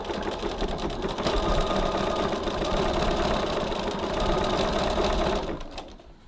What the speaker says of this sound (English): And now I'm just going to zigzag.